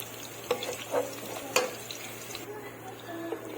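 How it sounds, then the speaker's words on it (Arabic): Garlic sizzles softly in oil while being stirred, with several sharp scrapes and taps of a utensil against the pan over a steady low frying hiss. "واديها بقى تشويحه كده اللي عندي التومه بتاعتي ايه ما ريحتها تطلع"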